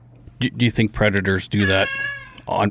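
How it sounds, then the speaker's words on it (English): A domestic cat lets out one drawn-out meow indoors while a person keeps talking over it. "Oh, that was my cat."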